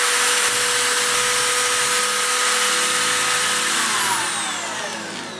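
Power drill boring a hole in wood while making a DIY marking gauge, a steady loud whir that holds evenly and then winds down toward the end as the bit spins out.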